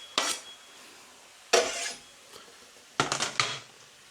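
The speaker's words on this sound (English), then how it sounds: "I'm just going to stir that around" Three sharp scrapes of a utensil against a pan as chopped garlic is stirred, each a brief clatter about a second and a half apart, close and fairly quiet, with no talk.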